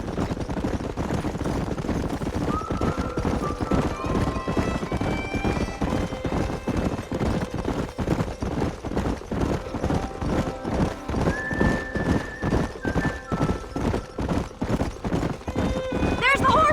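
Rapid, regular hoofbeats of galloping horses pound throughout, with several drawn-out whinnies rising over them in a Red Dead Redemption game soundscape.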